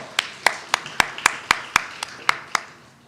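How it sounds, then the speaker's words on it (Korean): Blessing claps at a New Year dawn church service, about ten sharp, evenly spaced hand claps in a slow steady rhythm, close and distinct against a quiet room. "우리 축복의 박수 하도록 하겠습니다"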